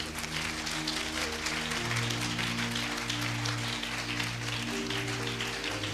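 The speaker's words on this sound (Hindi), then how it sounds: "आइए जोर दे नाल प्रभु दे लई ताली बजाओ।" A church congregation claps together during worship, a dense, continuous wash of hand claps that carries on under sustained music tones and the sound of the hall.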